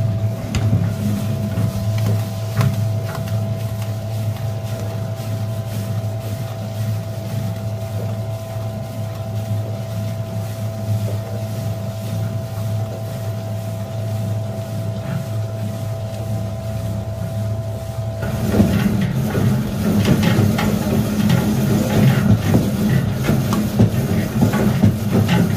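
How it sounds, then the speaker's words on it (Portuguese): An electric mixer on slow speed beats a multipurpose dough of egg, fennel seed and food colouring, giving a steady droning motor whine that turns louder and rougher near the end, with no talking. "E vamos colocar para bater."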